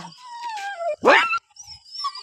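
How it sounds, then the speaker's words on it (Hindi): A dog vocalizes close by with a drawn-out whine and a single sharp bark in the middle, followed by softer whimpering sounds in an outdoor village setting. "कुत्ता"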